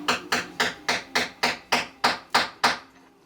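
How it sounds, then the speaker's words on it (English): Hammer blows on a wooden miniature book nook library kit, nine sharp, evenly spaced strikes in quick succession, close and fairly loud, with no talking. "gonna have to hammer, sorry"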